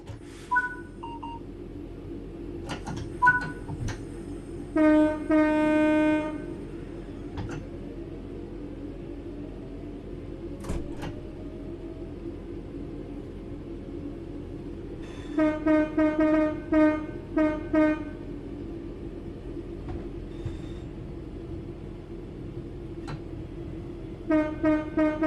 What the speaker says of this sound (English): Let's get the train moving and see it all working.